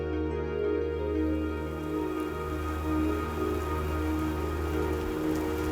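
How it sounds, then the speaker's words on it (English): Steady rain pattering on surfaces on Cocos Island, a dense continuous hiss with a low constant hum beneath it, no talking. "Morning brings the familiar sounds of rain to Cocos Island."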